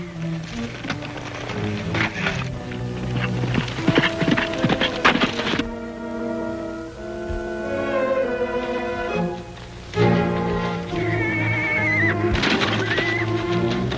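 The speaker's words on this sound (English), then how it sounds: "This horse is going to give out riding double." A horse in a 1950s TV Western lets out several whinnying neighs in separate bursts, set against a soundtrack-like background, with any hoof clops faint.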